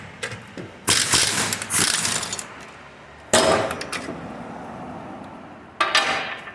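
A ratchet loosens 18mm brake caliper bolts on a SAAB 9-3 rear brake, with several loud bursts of metallic clanking and ratcheting separated by quieter pauses.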